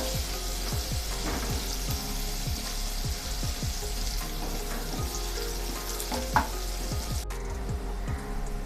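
Chopped onions, green chillies and curry leaves sizzle steadily in hot oil in a pan, with repeated scraping stirs of a spatula and a brief clatter near the end.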